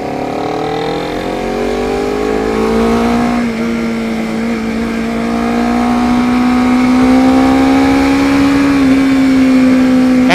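Honda CBR250RR motorcycle engine revving while riding, a loud, close, rising whine that climbs steadily in pitch across the run with a brief dip midway.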